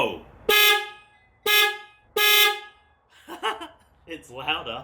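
Upgraded loud horn fitted to a Kawasaki Ninja 400 motorcycle, blaring three short close honks in a steady rhythm, followed by someone speaking.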